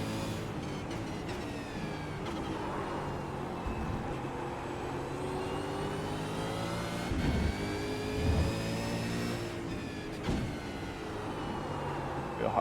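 Race car engine in the iRacing sim, a steady mid-pitched drone with rising and falling harmonic sweeps as it revs through a corner, loud and continuous with brief bumps, no talking.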